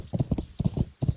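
Horse hooves clip-clop in a quick galloping rhythm in the video game Kingdom Come: Deliverance, close and clear, several grouped beats with a brief pause.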